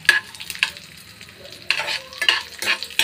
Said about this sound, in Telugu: కిస్మిస్ని వేయించుకుంటున్నాను.